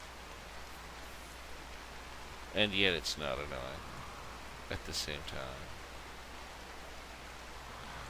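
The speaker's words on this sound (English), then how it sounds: "It is pouring with rain in the colony right now." Steady heavy rain pours over a RimWorld colony at night, a constant hiss running through the whole stretch while someone talks over it briefly.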